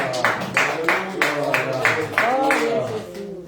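A church congregation claps in a steady rhythm, about two claps per second, for a few seconds, with a voice singing or speaking over the clapping.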